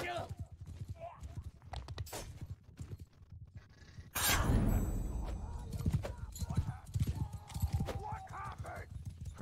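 Horse hooves clip-clopping in the medieval combat game Mount & Blade II: Bannerlord, a rapid run of hoofbeats under a voice, broken midway by a loud burst of impact and commotion.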